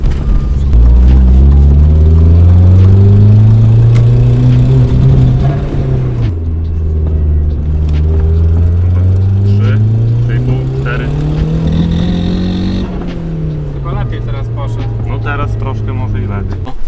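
A car engine revs up to around 3,500 rpm in loud, close, rising sweeps, easing off between pulls and climbing again several times, with voices talking over it.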